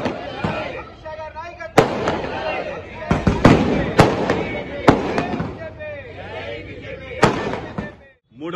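Firecrackers burst at a party-office celebration of an election win: sharp, loud cracks go off irregularly, several in quick clusters, while voices chatter and call out throughout.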